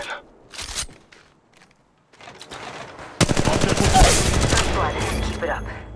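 Gunfire in Apex Legends Mobile: a few scattered shots and clicks, then a loud rapid automatic burst of closely spaced cracks that rolls on for several seconds.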